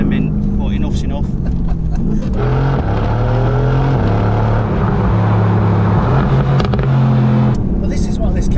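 A Mercedes-AMG GT-R engine pulls hard through its gears, its loud droning tone climbing and dropping at each shift, heard close from inside the car while voices talk over it.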